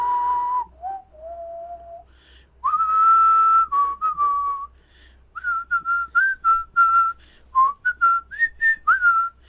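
A person whistles a tune alone, clear and loud, starting with a few long held notes, then a quicker run of short, bouncy notes rising and falling in pitch.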